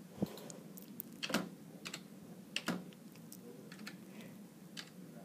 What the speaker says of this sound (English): under City, start typing, and then your city should pop up